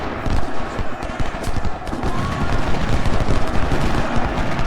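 Artillery fire during a Civil War video game battle, with dense, continuous rumbling volleys of cannon and gunfire crackling loudly throughout, no pauses.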